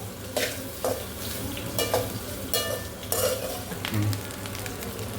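Bitter gourd fries in hot oil in a pan for a tamarind curry, with a steady sizzle broken by several scraping stirs of a spoon, close and moderately loud.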